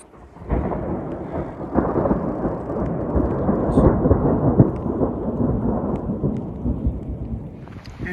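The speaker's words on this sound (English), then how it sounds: "It's starting to rain." Rain falling on a high Colorado mountain trail near La Plata Peak, a loud dense rumbling wash with rustling close by and occasional sharper patters, continuous after a sudden start.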